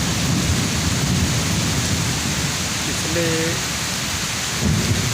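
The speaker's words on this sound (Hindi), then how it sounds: "14 घंटों से लगातार बारिश है।" Dense, continuous heavy downpour after fourteen hours of rain, hissing steadily throughout, with a brief faint voice in the middle.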